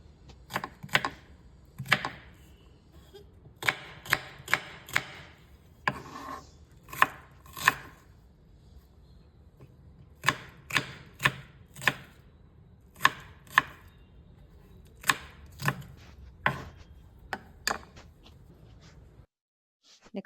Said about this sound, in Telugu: పాలకూర ఫ్రై కోసం 2 స్మాల్ సైజ్ ఆనియన్స్ని నేను కట్ చేసుకుంటున్నాను చిన్న చిన్న ముక్కలుగా